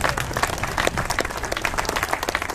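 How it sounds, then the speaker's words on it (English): An audience gives a round of applause at a local political gathering about council seats, dense steady clapping from many hands filling the room for a couple of seconds without talk. "please give yourselves a round of applause"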